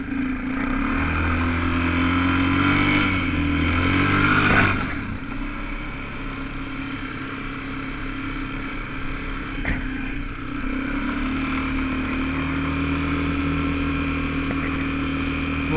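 A motorbike engine idles and revs on snowy trails, a steady close motor drone that swells and climbs in pitch before settling back to a lower, even idle.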